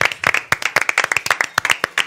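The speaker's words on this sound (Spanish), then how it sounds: "Un aplauso para él, por favor." Studio audience claps for a contestant leaving a challenge show, sharp, distinct individual hand claps in a quick, uneven rhythm, close and fairly loud.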